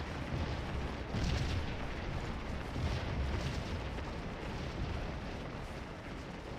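Cannon artillery fire in the Scourge of War video game booms over a dense, rumbling battlefield din, with heavy blasts swelling near the start and again midway, loud and continuous.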